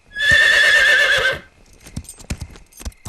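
A horse gives a loud, close whinny lasting about a second, followed by quieter, uneven clip-clop of hooves.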